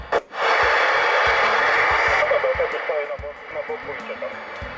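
Steady broadband receiver hiss from an Alan 87 CB radio through an external speaker, loud and continuous, with faint garbled modulation sounds and a few clicks over it.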